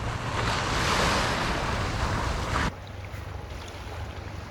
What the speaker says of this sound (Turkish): Biraz önce geçen sahil güvenliği dalgaları geldi.